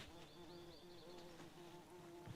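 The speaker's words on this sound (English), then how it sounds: "The bees are out in full force." Bees buzzing on a calm day beside a small offshoot of Pine Lake near a dock, a steady drone with a few insects weaving close and far, no voices.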